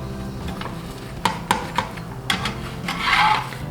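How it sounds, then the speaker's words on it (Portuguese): A flour tortilla cooks in a frying pan as its edges are pressed down, giving soft frying crackle, a few sharp scraping knocks and a brief louder sizzle near the end. "viro, ó, e tento encostar as bordinhas toda dela na frigideira."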